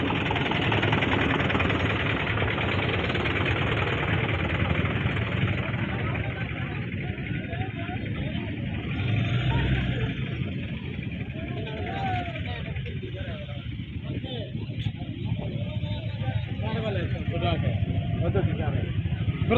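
Engines of tractors, auto-rickshaws and motorbikes rumble and idle together in a festival traffic jam, a dense continuous drone under steady talk from people nearby.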